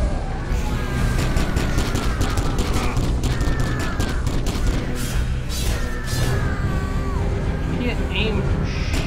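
Constant gunfire in Warhammer 40k: Kill Team, a dense, unbroken barrage of shots and booms from start to finish, loud and close, with people talking over it.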